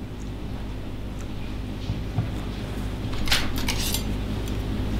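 Cornstarch dissolved in a little water being stirred with a utensil in a kitchen, a steady close scraping and clinking of metal against a container that rises in the second half, with no voices.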